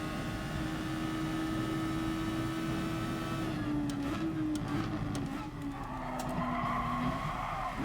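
A GT Sport race car on the Sardegna circuit holds a steady engine note, then brakes hard into turn 1 as the pitch drops, with tire squeal and scrubbing noise near the end.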